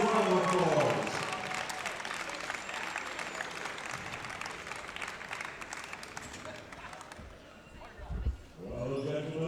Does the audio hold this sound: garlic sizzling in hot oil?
no